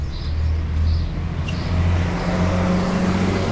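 An 850 HP R31 Skyline Wagon engine runs loud and steady on a dyno, a continuous droning roar with slight swells in pitch, heard alone without voices.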